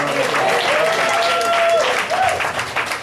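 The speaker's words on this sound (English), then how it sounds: "give yourselves a round of applause" A church congregation at Lake Ridge COGIC applauds itself after a song, with a brief, full burst of clapping and cheering from a crowd, voices calling out over it.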